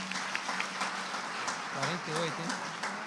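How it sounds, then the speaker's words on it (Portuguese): A church congregation applauds during a celebration worship service, with scattered claps over a steady broadband wash and a voice speaking over the applause. "Vamos aplaudir Jesus?"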